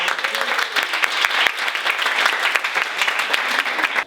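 A live audience at a stage show applauds steadily and loudly, dense clapping filling the whole stretch without a break, close and full.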